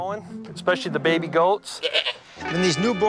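Newborn baby goats on a farm bleat in several close, wavering cries, one after another, each short and quavering with a brief pause between.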